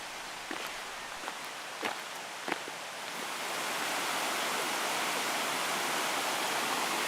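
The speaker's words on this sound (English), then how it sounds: "Our leats now become a river." A river fed by a leat runs beside an old Cornish tramway, its steady broadband rush swelling to a loud continuous roar after a few faint footsteps.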